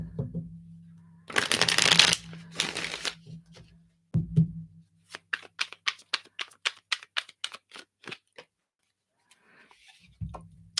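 Tarot cards are shuffled up close in two rough bursts, followed by a quick run of crisp, clicking riffles that taper off into quiet.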